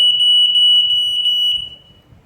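A smoke alarm shrills in loud, rapid high-pitched beeps for about a second and a half, then cuts off, leaving a quiet room.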